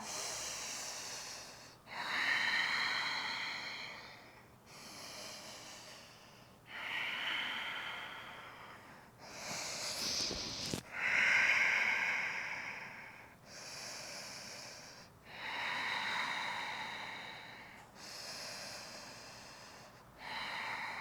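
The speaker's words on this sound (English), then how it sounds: "We'll just take another 5 deep breaths here." Deep, slow breathing during a yoga exercise, close to the ear: long airy inhales and exhales in a steady rhythm of about ten breaths, with a sharper rustle partway through.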